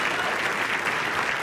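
Audience applause at a talk on becoming famous through social media, a brief burst of full, steady clapping from the crowd.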